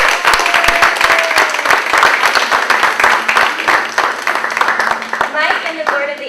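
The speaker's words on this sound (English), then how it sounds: "Let's have a round of applause for Mike and his many years of service" Applause from a community meeting audience, many hands clapping at close range in a dense, steady burst that fills the whole stretch, with some voices mixed in.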